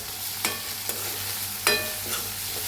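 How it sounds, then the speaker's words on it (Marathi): Onion, curry leaves and asafoetida fry in a pan as a utensil stirs them, with sharp scraping strokes at irregular intervals over a soft continuous sizzle, close and moderately loud, without talking. "कढीपत्ता, हिंग हलवून घेऊया।"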